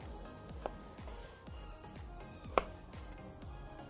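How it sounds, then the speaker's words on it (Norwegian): Knife chopping small strips into a watermelon on a cutting board, a steady series of soft regular thuds about every half second, close and moderately quiet, with two sharper clicks standing out. "Så tar jeg og skjærer noen små sånne striper på en måte i vannmelonen."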